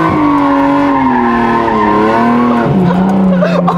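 A BMW E36 slides with its tires squealing loudly and continuously, the shrill tone wavering and dropping in pitch over a close, heavy engine drone.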